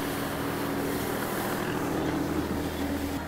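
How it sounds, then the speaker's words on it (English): A drift car runs the wide outer line of a New Jersey track at full throttle, a steady, droning engine roar that holds continuously at a distance with a constant, rough tone. "you have to come in fully committed on the throttle, running this wide line as Tractor Joe will show for us right now"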